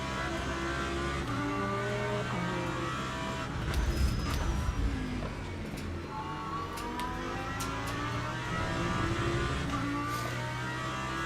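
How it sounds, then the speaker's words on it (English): Hypercar engine in the racing game Le Mans Ultimate at Sebring, a steady loud engine drone with shifting pitch that swells around the fourth and ninth seconds as another car closes from behind, with no talk. "Hypercar from behind."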